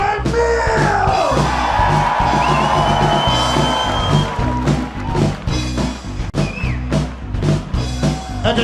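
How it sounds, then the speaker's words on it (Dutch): A large festival crowd at an outdoor stage yells, whoops and cheers loudly for Emiel, a sustained roar of voices with shouts rising above it and fading slightly toward the end. "Een hartstikke groot applaus voor Emiel!"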